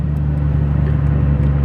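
An 800 hp Nissan S14 Silvia with an 8HP70 automatic gearbox cruising, its engine a loud, steady low drone close by with no talk.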